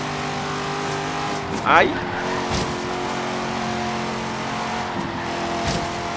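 Racing car engine in Forza Horizon 3, a Corvette or BMW i8 on a long straight, droning steadily with a brief tire squeal and gear shifts while players talk.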